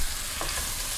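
Meatballs and sausage frying and sizzling in a hot wok for nasi goreng, a steady loud crackle with a brief stir or scrape partway through, no talk.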